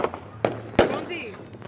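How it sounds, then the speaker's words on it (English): Fireworks popping during a Fourth of July celebration, two sharp loud bangs about a third of a second apart over background chatter, followed by faint fizzing. "we have a lot of fireworks to pop with"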